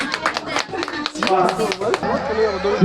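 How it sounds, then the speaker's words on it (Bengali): An audience at an outdoor fancy-dress competition run by a junior sporting club claps in a quick, irregular burst of applause, mixed with voices. "একবার হাততালি।"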